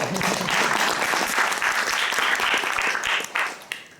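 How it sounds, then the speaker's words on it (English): A crowd applauds loudly and steadily for a few seconds, then the clapping tapers off near the end. "Round of applause."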